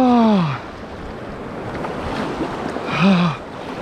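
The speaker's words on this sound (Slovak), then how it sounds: "Tak táto vlna ma zmočila komplet celého." Water splashes against a small boat on a river trip from Košice to Hungary in rain, with wind noise over the microphone and two brief louder splash bursts at the start and near the end.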